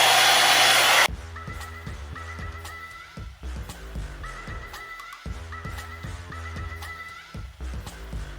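A hair dryer blows on high heat, a loud steady roar for the first second, then cuts off, leaving quieter background with layered tonal hum.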